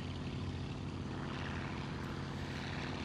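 A light aircraft's hot engine drones steadily in flight near mountainous terrain, a loud, close, unbroken propeller hum with strong low harmonics and no voices.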